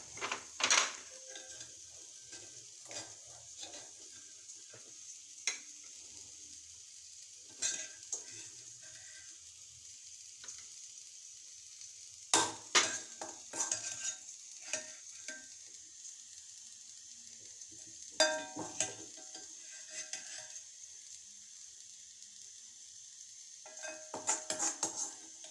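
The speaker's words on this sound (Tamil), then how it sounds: "இப்போ இதில் வந்து நம்ம சிக்கன் 65 பொரிச்சிடலாம்." Chicken 65 and fish frying in hot oil, a steady sizzle running throughout, broken by occasional sharp clinks and scrapes of utensils against the pan.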